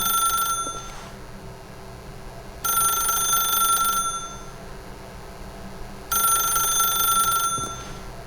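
Telephone in The Stanley Parable ringing in three loud, bright electronic bursts, each about a second long, separated by quieter pauses with faint room tone.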